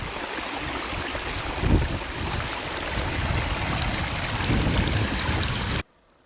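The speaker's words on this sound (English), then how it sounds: "The water just kind of flows out from the rocks." Spring water on a mountain near Wheeler Peak, New Mexico, flows out from the rocks with a steady rushing wash that swells slightly and cuts off abruptly near the end.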